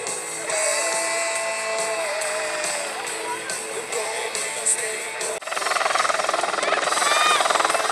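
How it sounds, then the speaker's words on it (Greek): An Airbus EC120B helicopter flies aerobatics at an air show, its rotor and turbine sound a steady loud drone that swells and grows harsher partway through, with crowd noise and a commentator talking over it. "Το ελικόπτερο του Δημήτρη"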